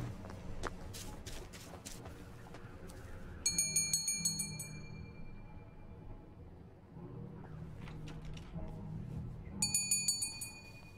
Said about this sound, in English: Let me ring the bell first.